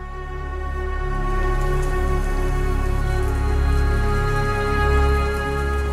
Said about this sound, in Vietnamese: Bữa sau, trời mưa như trút nước.